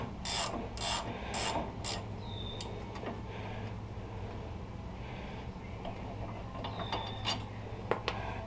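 A ratchet wrench works on stuck ball joint bolts on a GM truck, with a quick series of four loud ratchet clicks followed by quieter creaks, rubbing and scattered mechanical ticks under a low steady hum.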